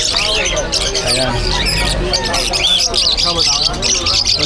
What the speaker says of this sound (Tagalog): Ayan, ang daming ibon.